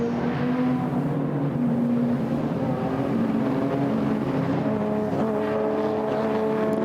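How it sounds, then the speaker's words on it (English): A pack of historic race cars, including a Lotus 15, starts a race at Silverstone, producing a dense, sustained engine roar with overlapping droning and rising tones, steady and loud throughout. "The Royal Automobile Club Woodcote Trophy and Stirling Moss Trophy race getting underway at Silverstone"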